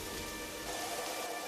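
Steady heavy rain falling, a dense continuous hiss with no voices, brief and unbroken.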